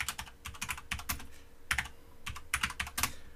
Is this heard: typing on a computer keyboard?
yes